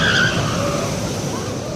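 A roller coaster (Manta) at SeaWorld Orlando roars past nearby, a loud, broad rushing rumble that starts strongest and eases slightly as the train moves away, with no talking.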